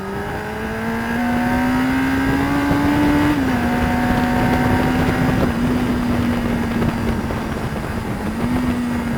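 A car accelerates hard around the Mallory Park race track during a track session. The engine note climbs steadily, and several distinct gear changes are heard inside the car over wind noise.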